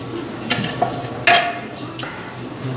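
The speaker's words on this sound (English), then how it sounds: "Just bring everything to a little sizzle." Pork and sauce for a Chinese stir fry crackle softly in a pan, a gentle low sizzle broken by a few sharp scraping stirs of a utensil, close and fairly quiet.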